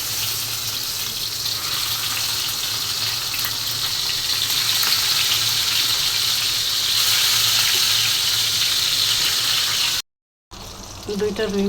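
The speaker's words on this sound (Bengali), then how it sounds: "দুইটা রুই মাছ ভেজে নিচ্ছি" Two rohu fish fry in hot oil, giving a steady broadband sizzle that runs loud and continuous for about ten seconds, breaks off briefly, then returns at a lower level.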